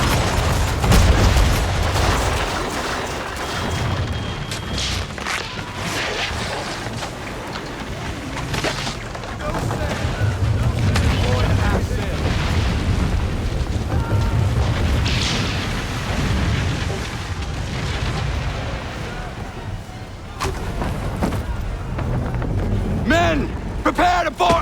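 Naval cannon fire and explosions in the Assassin's Creed 3 game: dense, continuous booming and rumbling bursts throughout, loud and close, with shouted voices over the battle.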